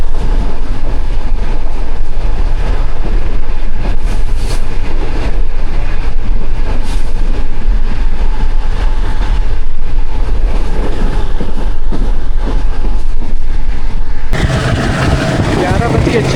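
The Green Line Express runs at high speed, around 125 km/h, with a loud, dense, continuous rumble and rattling roar from inside the train, shifting in tone near the end; no talk.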